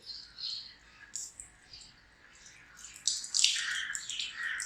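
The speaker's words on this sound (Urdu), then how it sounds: "پانی نل ہے وہ آپ نے بالکل ہلکا سا کھولنا ہے تاکہ کم پانی سے آپ کا وضو ہو جائے" A tap opened only slightly for ablution lets a gentle, thin trickle of water run, with soft splashing and dripping that swells louder toward the end; no one speaks over it.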